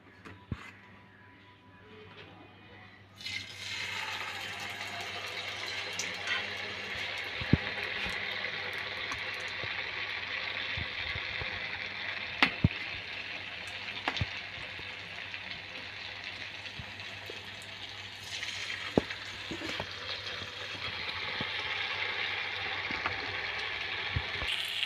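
Cauliflower bajji pieces frying in hot oil for a Diwali snack, a steady bubbling sizzle that starts abruptly after a quiet opening and continues loudly, with scattered pops and crackles throughout.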